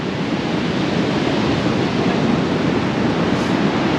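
Waves breaking on the beach at La Guadalupe, Mexico, a loud continuous wash of surf filling the whole clip with no gaps and no voices.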